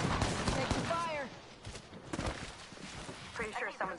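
Scattered video game gunfire pops in short bursts at moderate distance, mixed with footsteps and clatter under steady talking from players.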